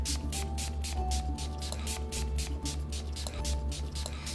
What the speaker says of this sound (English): start with your mist and generously spray your entire face and neck.